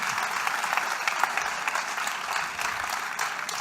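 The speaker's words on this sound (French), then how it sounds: "Mesdames, Messieurs, applaudissements." An audience at a live crowdfunding event claps steadily and densely, applauding the close of a 500,000-euro funding round, with the applause filling the whole moment without pause.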